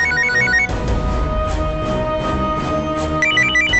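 A telephone rings in a courtroom drama scene, its repeated electronic trill pulsing at the start and again near the end over a dense, loud musical background.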